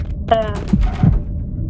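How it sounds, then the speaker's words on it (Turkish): Heartbeat sound effect inside the horror video game Asylum 77, a low muffled double thump repeating twice over a steady hum, with faint game tones above. "Ee, kalp sesi geliyor."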